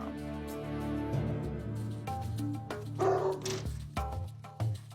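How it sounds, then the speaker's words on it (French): A dog barks and yips in short, uneven bursts, some with a whimpering edge, reacting to someone approaching a window or sliding door indoors; the barks are fairly close and carry over a steady low hum. "un chien comme Cujo, je commence par étudier sa réaction quand quelqu'un s'approche de la fenêtre ou de la porte."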